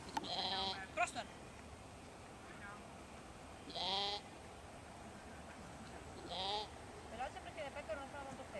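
Sheep bleating in a field during herding dog training, three distinct calls spaced several seconds apart, mid-distance, with a trainer's voice talking quietly in between.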